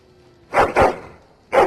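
A dog in Dragon Age: Origins gives three short, close barks, two quick ones in a row followed by a single bark after a brief pause.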